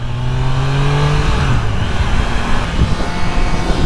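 Triumph Daytona 660 motorcycle cruising in fourth gear at about 68 mph, its engine a steady loud drone blended with heavy wind rush, with a slight pitch shift as it holds speed on the road.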